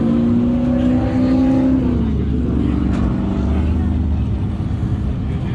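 Big Block Mullet drag car pulling away, a loud, rough engine drone with a dropping pitch sweep as it moves off, steady and close throughout.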